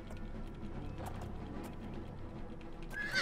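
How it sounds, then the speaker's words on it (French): A horse neighs and hooves clatter in the video game Oblivion amid a busy background of rumbling game noise, with a high shrill whinny near the end. "Il y a un cheval qui est vénère aussi, qui me court après."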